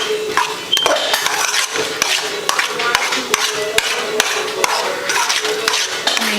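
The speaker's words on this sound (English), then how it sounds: "I still gotta add the eggs in here, but I just want to mix this around" Meatloaf mixture being worked around in a bowl before the eggs go in, giving close, continuous wet squishing and stirring with sharp clicks and knocks against the bowl.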